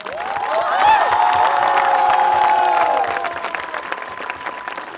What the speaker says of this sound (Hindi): अपने भाइयों के लिए जोरदार ताली बजाइए